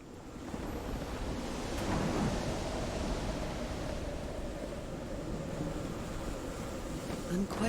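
Thunderstorm in the game Call of the Sea, a faint, steady rumble of rain and wind with a low roll of distant thunder building midway, continuous and subdued throughout.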